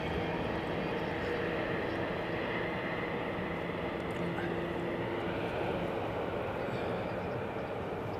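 Steady, dense roar of Airbus A380 and Boeing 777 jet engines spooling up in a flight simulator, a continuous broadband rumble with a faint tonal whine, loud and unbroken throughout.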